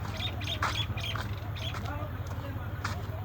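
Peacocks call from across open farmland in a few loud, squawking cries over a steady low hum and faint background voices.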